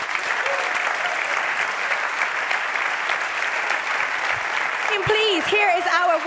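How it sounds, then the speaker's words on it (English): An award-show audience at a music festival applauds the organizers with a continuous wash of clapping. Toward the end, whoops and cheering voices rise over it. "Can we get some applause for the organizers?"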